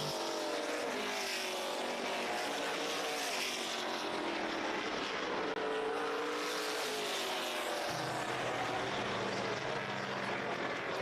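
Stock cars race around the oval at Carteret County Speedway during a Grand National Super Series event, a steady, loud roar of engines that sounds somewhat distant and continues without talk.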